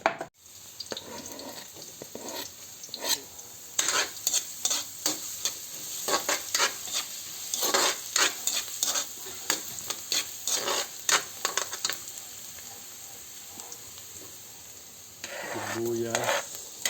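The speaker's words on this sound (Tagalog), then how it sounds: "Ayan, igigisa na po natin yan." Ginger, garlic, onion and fresh shrimp paste sautéing in a pan give a bright, steady sizzle broken by repeated scraping stirs, close up, easing near the end before a brief burst of running water.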